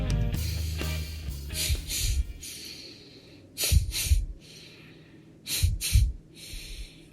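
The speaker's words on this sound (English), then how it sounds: "That's the sound of me breathing to a certain rhythm." Close, heavy breathing in a repeating pattern of sharp inhales and exhales, with noisy gusts spaced a few seconds apart.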